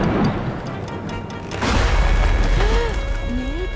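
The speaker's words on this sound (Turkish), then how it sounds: "rüzgar ağacı devirmiş." A tree blown over by storm wind in an animated children's show: steady wind noise, then a heavy, deep crash and rumble about halfway that keeps roaring, with a short voice near the end.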